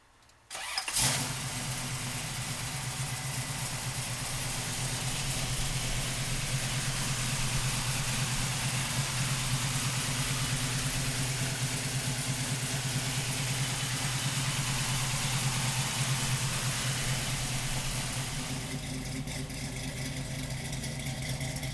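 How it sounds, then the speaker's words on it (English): A 1973 Chevrolet Camaro with a 454 V8 cranks and catches with a sudden roar, then settles into a steady, rumbling idle that continues alone for a long stretch. "So come on up and we'll fire this 454 up."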